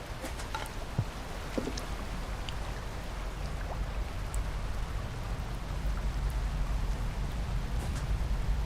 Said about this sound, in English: Now it's about to rain.